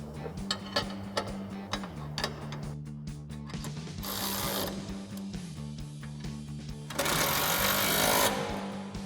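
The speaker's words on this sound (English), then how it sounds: "tighten that body mount fully with our 19 mil socket on our impact" An impact wrench with a 19 mm socket tightens a body mount bolt on a Jeep Wrangler TJ during a side step bar install, firing two loud, close buzzing bursts over a ticking, rattling background.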